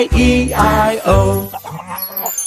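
In a cartoon farm-animal song about hens, a sung voice imitates clucking in short melodic bursts. It is close and fairly loud, with no other sounds.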